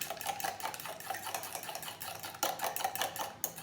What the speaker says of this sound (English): Give that another little mix.